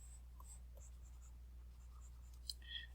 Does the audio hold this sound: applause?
no